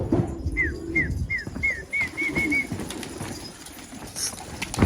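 Spanish breed pigeons lift off together outdoors, wings flapping in quick bursts while a run of short, evenly spaced bird calls rings out nearby over a low background rumble.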